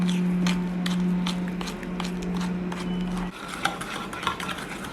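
Egg and sugar batter being beaten in a bowl for a pressure cooker fruit cake, rapid rhythmic clicking strokes of a whisk or spoon against the bowl over a steady low hum, close and moderately loud.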